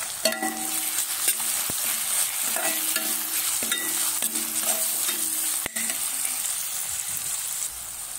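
Continuous loud sizzling of green chilli frying in a pan, with repeated scraping and knocking as a spoon stirs it.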